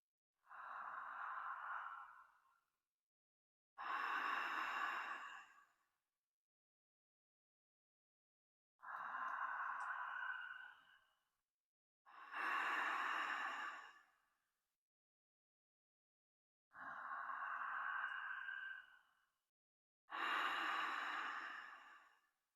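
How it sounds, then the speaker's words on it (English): Circular breathwork during a guided session: three paired cycles of deep inhales through belly and chest followed by louder whooshing exhales out the mouth, each breath about two seconds, with silent pauses between, close and clear with no talking. "Keep breathing in this circular motion,"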